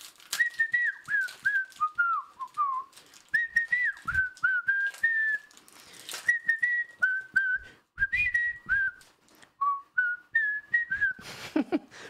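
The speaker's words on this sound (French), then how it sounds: "Je suis un des plus grands siffleurs français." A man whistles a lively melody solo, in short rising and falling phrases separated by brief pauses, with faint background noise between phrases.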